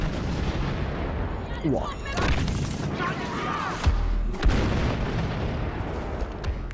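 Grenade blasts go off in a Star Wars Battlefront multiplayer match, several booming explosions in quick succession over game noise, with players exclaiming over them.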